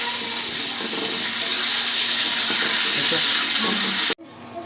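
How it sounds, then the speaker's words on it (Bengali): Chicken meat frying in hot oil, a steady loud hiss and sizzle with faint stirring clatter, cutting off abruptly near the end. "লাল লাল করে মাংসগুলো দেখছেন কত সুন্দর করে ভেজে নিচ্ছি"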